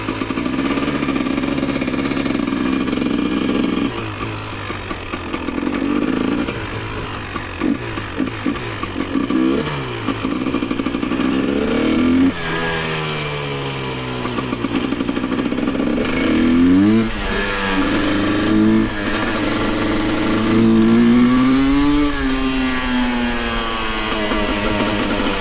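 A GasGas/KTM EC300 two-stroke dirt bike engine idles with a rough clatter, then is blipped and revved repeatedly, pitch sweeping up and down in loud close surges.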